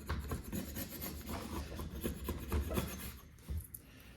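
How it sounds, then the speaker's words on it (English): A sharpened tool scraping hot glue off a surface, a steady rasping, rubbing scrape in repeated strokes, close and continuous. "because I've sharpened this, I can scrape that hot glue off."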